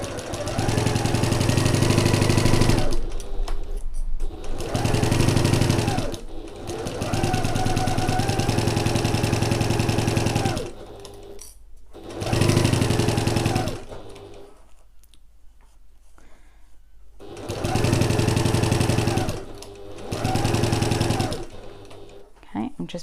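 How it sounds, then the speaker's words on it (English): A sewing machine whirs in several long runs along a seam on a fabric sack, near and loud, stopping and restarting repeatedly with brief quiet gaps. "Just making sure my long edges match as I pop it through under the presser foot."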